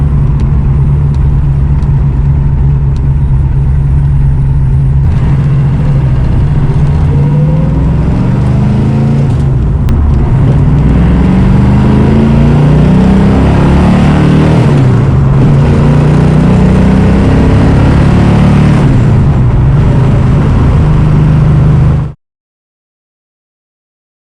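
A 1970 Plymouth Cuda on a test drive, its engine droning loud and close with rising and falling revs through gear changes, ending abruptly.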